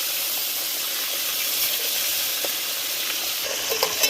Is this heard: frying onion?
yes